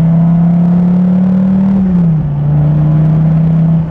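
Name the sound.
Dodge Viper TA 2.0 engine revving in cabin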